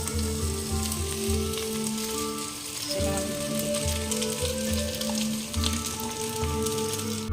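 Carrot and capsicum fry with rice in a pan, a loud continuous close sizzle with a steady crackle and intermittent scraping from stirring, with no talking.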